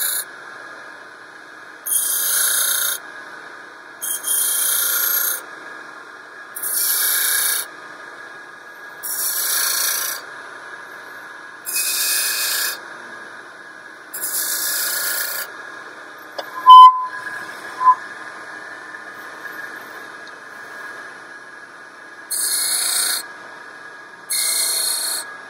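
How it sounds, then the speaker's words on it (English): Wooden bottle stopper turned on a lathe, the side of a small skew chisel cutting it in repeated short strokes of bright hissing scrape, each about a second long, over a steady motor hum, with a couple of sharp clicks mid-way. "So I'm just using the side of my little skew here."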